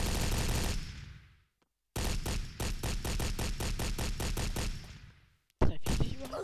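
Bursts of rapid automatic gunfire in the Brickforce video game, a dense rattle that fades, cuts to silence, then resumes as a fast rhythmic volley of about a dozen shots before a brief final burst.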